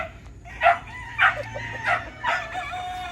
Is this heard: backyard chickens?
yes